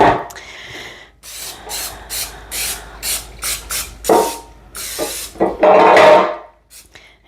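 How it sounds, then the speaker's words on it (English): Olive oil cooking spray is applied to a bread pan in a series of short, close hissing bursts of varying length, separated by brief pauses. "I am going to use just some olive oil spray just to make sure we don't have any sticking."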